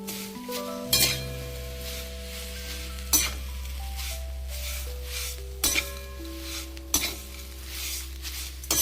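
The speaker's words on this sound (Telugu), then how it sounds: "అడుగులో ఉప్పు ఉంటుంది కాబట్టి ఆకు మాడదు, మనకు మంచిగా వేగుతుంది" Mint leaves fry with salt in a pan over low heat, a continuous close sizzle broken by several sharp metallic clinks of a utensil stirring against the pan, no talking.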